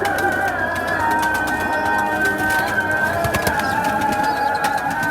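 Pigeons coo repeatedly nearby, overlapping soft throaty calls against a busy background of wing flutters and rustling.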